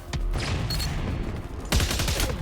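Sniper and rifle fire in a video game, several sharp cracks and booms spread across a couple of seconds amid steady battle noise, with no speech over it.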